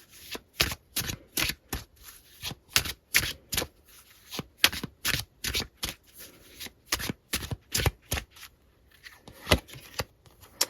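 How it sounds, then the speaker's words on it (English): Tarot cards are shuffled and pulled close by, a long series of crisp riffling bursts in a quick irregular rhythm with brief pauses between them. "let me pull some more cards"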